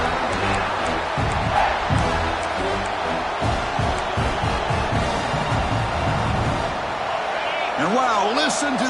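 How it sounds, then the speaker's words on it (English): A loud stadium crowd roars continuously in a college football video game (NCAA 26), a dense wash of cheering and shouting, with a commentator's voice talking over it. "listen to this crowd noise. This stadium is vibrating."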